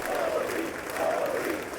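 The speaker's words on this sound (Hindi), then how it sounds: "अब जिस तरह से तालियों की गड़गड़ाहट सामने आई, एक बार हम फिर से सुनवाते हैं" An audience applauds PM Modi with dense, steady clapping that stays loud and close through the whole stretch and swells slightly near the middle.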